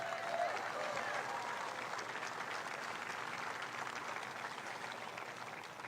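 Audience applause fills the room, a steady wash of many hands clapping at moderate distance and moderate volume, holding evenly from start to finish with a faint crowd murmur underneath.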